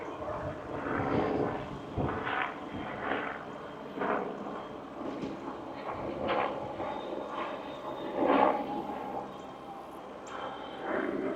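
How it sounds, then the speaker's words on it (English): A helicopter flying overhead beside a recreational trail loop in Sioux Falls, a steady moderate rotor drone with low rumble that swells slightly and then holds, with faint trail noise around it. "Helicopter flying over."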